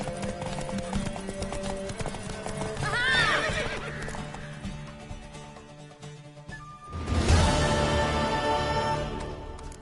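A horse's hooves pound in a fast gallop in The Witcher 3: Wild Hunt video game, and the horse lets out a loud whinny partway through, with a heavy rush of motion following.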